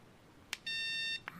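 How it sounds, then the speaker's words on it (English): A Pedy remote dog training collar gives a quick electronic beep, then a sustained rapid high-pitched beeping tone for about half a second, followed by another short beep. "Hold it for 5 seconds, and it's going to start beeping really fast"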